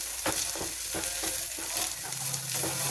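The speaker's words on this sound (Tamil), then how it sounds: "இந்த சமயத்தில் நம்ம இந்த உடச்சி வச்சுருக்கிற முட்டையை இதோட கலந்துடலாங்க" A broken egg stirred into vegetables frying in a pan, with a steady close sizzle and rhythmic scraping strokes of a spatula, heard alone without talk.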